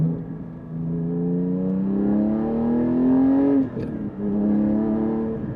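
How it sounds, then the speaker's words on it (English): A Porsche 718 GT4's Akrapovic exhaust revs up, rising in pitch to a loud peak, drops briefly, then revs again, alone with no talking. "So open this exhaust up a little bit."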